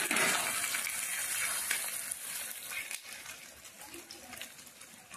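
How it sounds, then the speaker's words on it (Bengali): Chili and chopped onion fry in a hot pan, giving a steady bright hiss and sizzle throughout, with light crackling pops and no talking. "ভেজে নেব। মরিচ, পেঁয়াজ কুচি দিয়ে দিলাম।"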